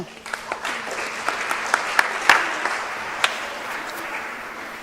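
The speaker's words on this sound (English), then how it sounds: "Give them a big round of applause" An audience in Christ Church, High Harrogate, gives a round of applause: a full, even patter of many hands with a few louder individual claps standing out, holding steady before easing slightly.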